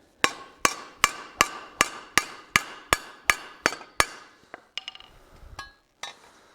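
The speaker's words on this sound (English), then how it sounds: "that's where you actually hammer the piece to give it its shape" Hot metal hammered on an anvil during blacksmith forging: about eleven sharp, ringing strikes in a steady rhythm, close and loud, then a few lighter, scattered taps.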